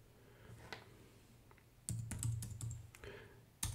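Keys on a computer keyboard clatter as a password is typed, a quiet stretch followed by a quick run of close, crisp clicks and a final louder tap, with no speech.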